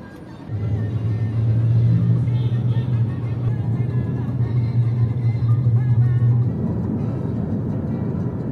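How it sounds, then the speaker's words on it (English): Steady low engine and road rumble inside a taxi or rideshare car heading to the airport, holding an even, droning hum for several seconds with faint muffled voices in the background. "Let's grab a taxi or an Uber to the airport"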